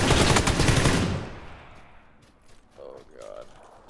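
Dense, rapid automatic gunfire in PlayerUnknown's Battlegrounds, loud and continuous for about a second before cutting off, then fading into a quieter game background with a couple of faint tonal beeps.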